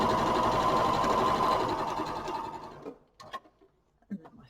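A sewing machine runs steadily for chain piecing scrappy four-patch quilt block squares, a close, even motor whir with rapid stitching for nearly three seconds, then stopping into a few soft handling knocks and rustles.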